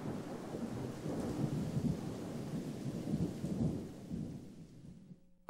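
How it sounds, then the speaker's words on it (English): Low, rolling thunder rumbles on and on beneath a soft wash of steady rain, fading out near the end. "Thunder and rain prevailed during the night."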